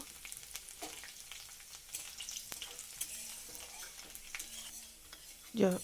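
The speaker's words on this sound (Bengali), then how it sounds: "এবার রসুনটাকে একটু হালকা ভেজে নেব।" Crushed garlic fries in hot oil in a pan that already holds burst chillies. It gives a steady, faint sizzle with light scraping from stirring, and a sharper clink of a utensil comes at the end.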